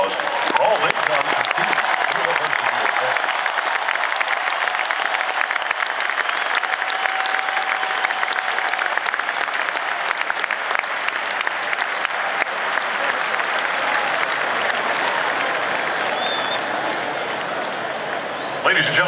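A large stadium crowd at a Texas Longhorns college football game applauding the band members, a loud, dense, continuous roar of clapping and cheering lasting the whole stretch and slowly easing toward the end.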